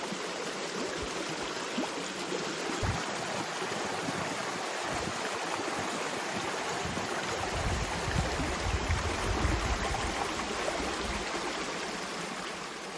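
Creek water flowing steadily beside a plowed and weeded cornfield, a continuous close rushing and burbling with a few stronger low surges, heard alone without voices.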